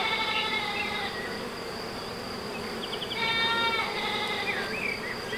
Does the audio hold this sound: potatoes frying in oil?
no